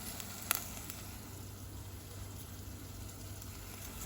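Soft steady sizzling of potatoes frying in hot oil, a faint continuous crackle with one brief click near the start.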